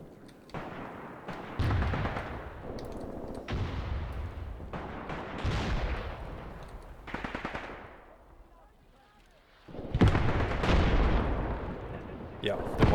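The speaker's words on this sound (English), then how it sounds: "Yeah, the mortar rounds are finally landing." Mortar rounds landing in the war game Graviteam Tactics, with a series of heavy, booming explosions and rumbling impacts at irregular intervals, mixed with distant gunfire and a brief quieter lull before another loud blast.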